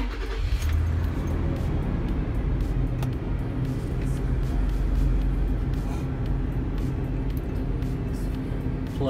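A 2018 Toyota 4Runner engine idles steadily with a continuous low rumble, close and unchanging throughout, and no voices.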